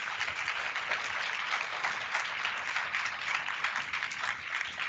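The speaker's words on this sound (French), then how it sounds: "on peut applaudir notre invité, effectivement" Steady, dense applause from an audience honouring a guest at a talk on political engagement and a local elected official's career, sustained and even throughout without breaks.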